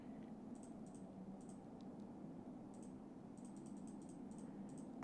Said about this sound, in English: Hope you guys can hear all my clicking.